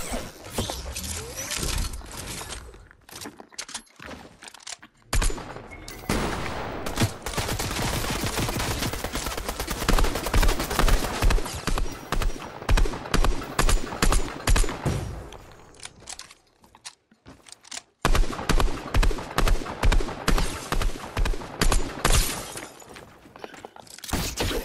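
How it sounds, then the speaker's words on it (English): Rapid, dense bursts of gunfire in a Mythics 1v1 video game match, loud and near, with repeated sharp shots and brief pauses throughout. "Shotgun."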